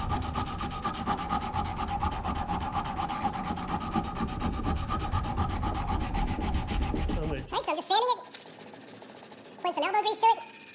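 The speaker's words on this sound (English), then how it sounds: "I'm trying to sand that out. It takes some elbow grease." A flat-head screwdriver shaft is hand sanded with a sanding block to remove a gouge, giving a steady, close back-and-forth rasping for about seven seconds before it stops and a voice speaks.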